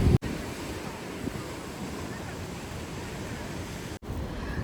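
Steady, broad whooshing wind noise at the seaside lava rock pools of Porto Moniz, Madeira, filling the whole stretch, with a surf-like roar underneath and two brief dropouts.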